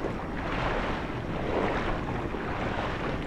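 Water drains out in the video game Black Mesa with a steady rushing, surging wash that carries on evenly for a few seconds without any pauses.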